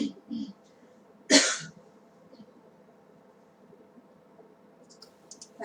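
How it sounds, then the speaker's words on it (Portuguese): A single sharp, close cough bursts out once in a quiet indoor room during a group study discussion, with faint murmuring and small clicks before and after it. "Peço desculpas pela minha tosse."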